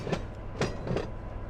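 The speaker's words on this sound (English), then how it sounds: "this is a long train that came up here." A long freight train in the Run 8 Train Simulator III game, its wheels giving a few rhythmic clicks over a steady rolling rumble, moderately loud with no voices.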